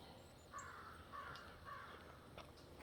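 Three harsh crow caws ring out in quick succession, distant and faint over a quiet outdoor background on a fall morning walk.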